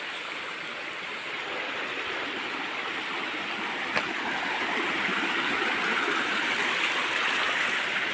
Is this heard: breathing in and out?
no